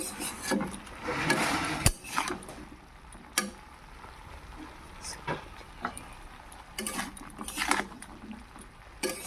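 Broccoli stirred in a pan with chili, turmeric and cumin powder, giving close scraping and rubbing strokes with a few sharp utensil clicks against the pan, no talking.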